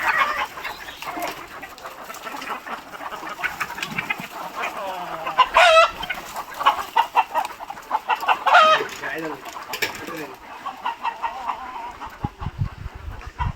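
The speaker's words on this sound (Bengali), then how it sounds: "মোরগ মুরগি এগুলো" Chickens and roosters on a farm in Raozan, Chattogram, clucking and squawking repeatedly at close range, some loud calls standing out, with people talking nearby.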